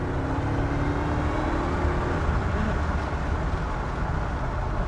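A Ford F-150 SVT Lightning pickup engine roars steadily under acceleration, a loud, continuous low rumble with constant intensity throughout.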